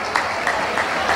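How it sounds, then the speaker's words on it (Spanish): Audience at a town fair clapping for the youth category winners, a short steady burst of applause at moderate volume. "Un aplauso fuerte para ellas."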